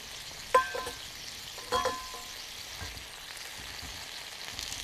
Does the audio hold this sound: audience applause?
no